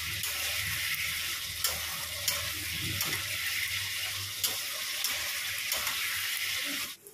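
Rice frying with spices in a pan for khichuri, a steady close sizzle running throughout with a few sharp stirring clicks and scrapes, no voices.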